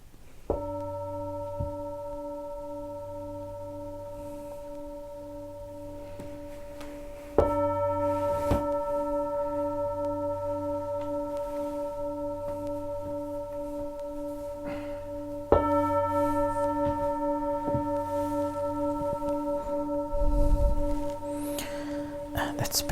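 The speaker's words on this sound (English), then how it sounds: "as you hear the gong slowly coming out" A meditation gong is struck three times, each strike blooming into a long, resonant tone with steady overtones that slowly fade, and the rings overlap a low background hum.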